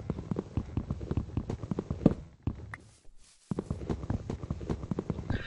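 Horse hooves clip-clop in the video game Minecraft, a steady run of quick, light hoof taps at moderate loudness with a brief near-silent gap midway, then the clopping resumes.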